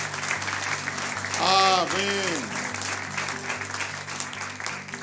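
Applause from a church congregation honoring a member's 17-year anniversary, broad clapping under a steady musical backing, with a voice speaking and singing-like tones over it.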